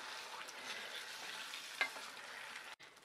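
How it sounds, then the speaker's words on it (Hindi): A utensil scrapes and stirs chicken in a hot pan, with a steady sizzle of frying underneath and one brief sharper clack. "और अब इसे एक बार मिक्स कर देते हैं।"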